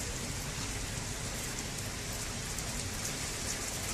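Steady rain falls continuously, a dense even hiss of drops on surfaces heard at moderate volume with no other sounds.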